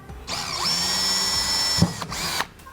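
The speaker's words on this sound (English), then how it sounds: "The hole is drilled through both sides." A power drill whines up to a steady high pitch as it bores through both sides of a PVC pipe, then cuts off, followed by a short second burst.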